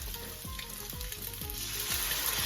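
Steak frying in a hot pan as green sauce goes in, a loud continuous sizzle close by with repeated low thumping strokes throughout, and no talking.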